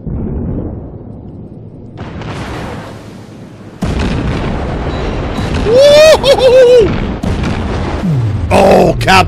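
Naval guns firing in World of Warships, heavy booming salvos and rumbling blasts from warships, with someone talking and exclaiming over the battle.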